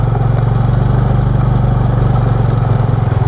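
A motorcycle runs steadily close by on a camping ride in Itogon, Benguet, its loud low engine rumble continuous and even for the whole stretch, with no talk over it.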